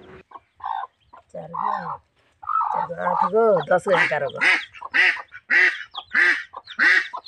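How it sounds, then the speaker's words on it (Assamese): Chicken chicks cluck and cheep in a rapid string of short, bright calls, close by, with brief pauses early on and a denser flurry toward the end. "ধুনীয়াকে মুৰ্গী পোৱালি ওলাইছে দেখিছেনে?"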